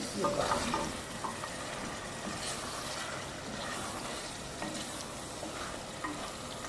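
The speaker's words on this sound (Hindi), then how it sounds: "अभी मैं इसमें आलू डालने लगी हूँ" Potatoes tipped into a pan of spicy masala that has been fried well, giving a steady close sizzle with stirring scrapes and a louder burst near the start, with no talking.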